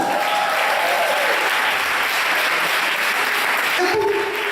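A church congregation breaks into sustained, dense applause that fills the room evenly throughout, with a voice rising faintly over the clapping.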